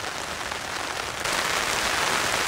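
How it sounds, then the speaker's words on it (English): Heavy rain falls hard and steady on surfaces outdoors in a wet forest camp, a dense continuous hiss that grows louder partway through, with no one talking. "As you can hear, it's still raining hard."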